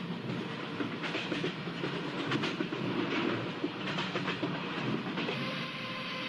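Indian express train running at speed while overtaking another express hauled by a WAP-5 locomotive, with steady rail rumble and rhythmic clickety-clack of wheels over joints throughout, close and continuous.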